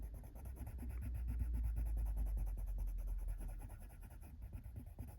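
A blender pencil is rubbed back and forth on a scrap of paper to clean it, giving a steady, close, rhythmic scratching that goes on without a pause.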